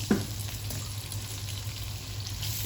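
Eggs frying in a pan with spinach: a steady, close sizzle and crackle with a soft tap at the start, continuous and even throughout.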